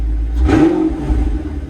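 An Audi R8 V8 or V10 sports car engine gives one short rev, its low rumble swelling and then easing back to a steady idle, close and loud with no talk.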